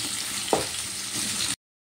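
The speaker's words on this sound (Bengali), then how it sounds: "বাকি পনিরগুলো আমি একই রকমভাবে একটু জাস্ট ভেজে নিচ্ছি" A steady sizzle of paneer pieces frying in hot oil, with a brief clink partway through before the sound cuts off abruptly.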